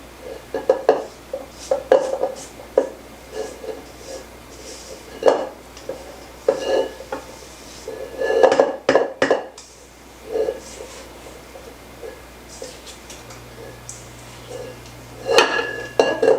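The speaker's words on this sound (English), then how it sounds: "Just trying to get this off the bottom of my bowl." A spoon scrapes strawberry sugar cookie dough off the bottom of a mixing bowl, giving repeated close scrapes and clinks in uneven bursts, with a voice speaking now and then.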